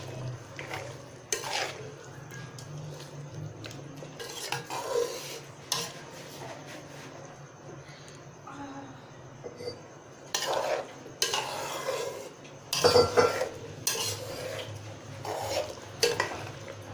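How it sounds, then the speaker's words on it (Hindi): A spoon stirs ingredients in a metal pot for a Ramadan sehri dish. Close, irregular scraping and clanking strokes come in bursts, some louder clusters near the end, over a quiet background with faint sizzling and no talk. "इसको अच्छी तरह से मिक्स कर लेंगे।"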